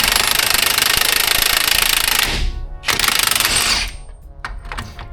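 Impact or air ratchet loudly hammering on the lower shock mount bolt of a 2004-era Ford F-150 front suspension, a rapid rattling burst lasting over two seconds, then a second shorter run and a few faint clicks.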